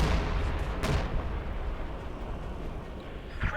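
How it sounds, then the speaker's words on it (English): Artillery bombardment pounds a base in the Company of Heroes 2 strategy game, a dense rumbling barrage with sharp blasts near the start and end, loud and continuous, no talk. "Another bombardment against the base"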